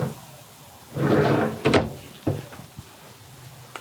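Drawers in a 2007 Pleasure Way Excel TS camper van kitchen slide open and shut, with a broad rumbling glide followed by a few sharp wooden knocks and clicks, close by.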